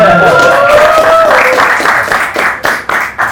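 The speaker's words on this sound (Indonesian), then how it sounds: "Tepuk tangan dulu dong." An audience applauds for the police at a live talk-show taping, with a clapping crowd building in the second half in loud, pulsing bursts, following a drawn-out spoken voice at the start.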